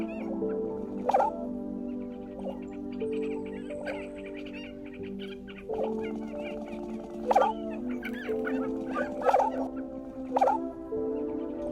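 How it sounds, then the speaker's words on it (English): Prairie chickens call repeatedly in open prairie, with a steady low booming drone and sharp cackles rising above it at irregular intervals, fairly close and free of talk. "The prairie chicken is endangered because of hunting and habitat loss."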